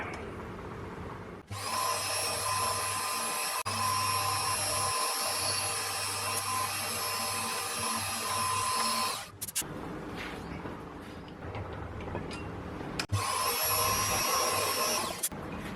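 A small milling machine cuts metal with a 2mm cutter, a loud steady high-pitched whine held for several seconds, cutting out briefly and then starting again close by, with no talking.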